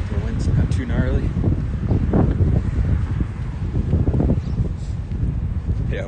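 Wind blowing on a city street, a steady buffeting rumble striking the microphone throughout with gusty low roar and faint rustle, fairly loud and continuous.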